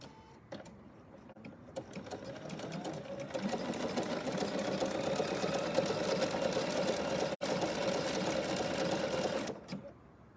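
A BERNINA sewing machine with a couching foot stitches steadily and continuously at close range for about nine seconds, a fast even mechanical whir with no talking.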